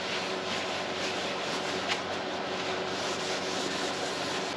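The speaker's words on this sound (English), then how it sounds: "you want to really rub this stuff hard, get it into all the pores" Steady, continuous hand rubbing of paste wax into a metal jointer table, a close, even scrubbing hiss that runs without pause.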